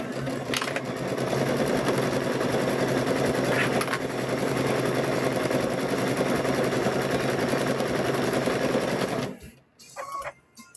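Sewing machine stitching quilt squares runs in a fast, steady whir for about nine seconds, then stops, leaving a few soft handling clicks.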